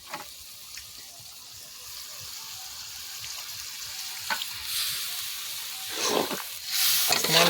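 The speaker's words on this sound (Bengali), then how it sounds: "জল দিয়ে দিচ্ছি" Curry simmers with a soft, steady sizzle in a pot at an outdoor New Year picnic, then water is poured in, raising louder hissing bursts toward the end.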